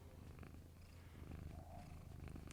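Close, faint cat purr, a soft low rhythmic rumble with gentle pulsing and light rustle, steady throughout with no voices.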